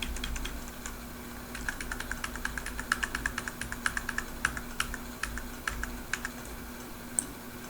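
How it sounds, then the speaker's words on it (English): Computer keyboard arrow keys are tapped in a steady run of quick, light clicks, close and fairly quiet over a low electrical hum. "now I can push it up into there using my keyboard,"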